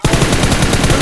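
Loud, continuous rapid-fire gunfire from a BGMI match in a tournament fills the whole second as an unbroken automatic burst, close up and alone.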